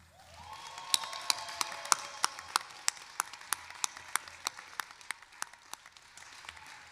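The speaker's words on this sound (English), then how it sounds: "let's give our graduates one final round of applause" A large audience at a university fall commencement ceremony applauds the graduates, a dense, sustained wash of clapping with sharp individual claps standing out throughout.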